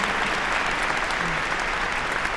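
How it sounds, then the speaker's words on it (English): A crowd at a mid-year university commencement gives steady, sustained applause, a dense even clatter of many hands that holds at a constant level throughout. "let's give him a round of applause for all he does for our state"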